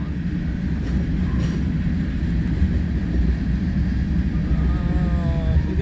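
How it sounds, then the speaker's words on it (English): A long freight train with Tropicana cars rolls past in Fremont, Nebraska, making a steady, loud rumble of wheels and rail cars that continues unbroken for the whole stretch. "End of the train's coming up"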